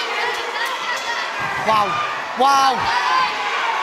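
Fight crowd at a GBK boxing show roars and cheers for both fighters, a loud continuous wash of voices with sharp shouts rising over it, while a commentator's voice cuts through close by.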